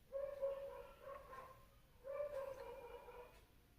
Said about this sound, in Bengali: কুকুর ডাকছে, কুকুরের ডাকতে ইচ্ছে করছে তাই